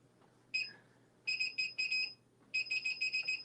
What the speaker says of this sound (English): with this one, you will hear a lot of beeping